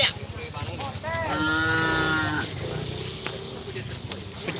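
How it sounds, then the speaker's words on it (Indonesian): Small cattle moo loudly at a bull race practice ground in Pamekasan, a long drawn-out call with a broad harmonic tone, set against crowd chatter and a steady insect drone. "Ini cuma sapi kecil kali ini."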